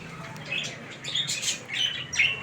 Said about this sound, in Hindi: ये भी देखें हमारे तोतों के बच्चे